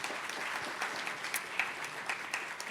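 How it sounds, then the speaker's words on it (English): Audience applause at an evening reception marking Social Security's 90th anniversary, a steady crowd clapping that stays fairly even for a few seconds. "A quick round of applause and thank you to AARP for that wonderful video."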